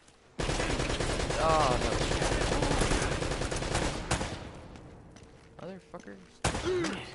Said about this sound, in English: I think I just have to rush the gun every time he stops shooting